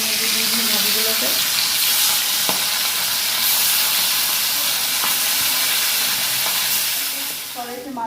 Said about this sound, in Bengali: কড়াইতে মাছ ভাজা বসিয়ে দিয়েছি